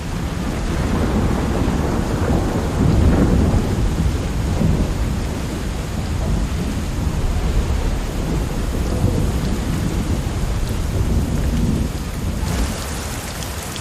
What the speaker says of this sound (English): the champion wrestler Chumin tries to brave the oncoming storm.